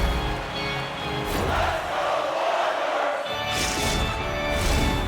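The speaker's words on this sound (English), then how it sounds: "You can feel the energy in this crowd" A simulated arena crowd at an NHL 24 hockey game roars loudly and continuously, dips briefly, then swells back up with sharp bursts of cheering.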